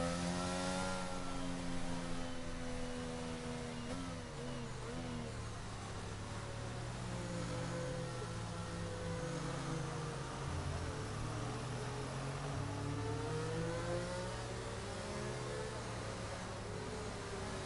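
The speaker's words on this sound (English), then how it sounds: "So that's the safety car then, heading around the circuit." Safety car lapping a circuit in a Mexico Grand Prix racing video game, a steady engine drone rising and falling in pitch as it accelerates and slows, heard alone and fairly faint.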